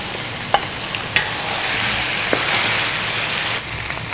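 Eight green chillies dropped into a pot of frying oil for mutton tahari, raising a loud, continuous hiss and sizzle with a few small clicks, steady throughout before easing slightly near the end.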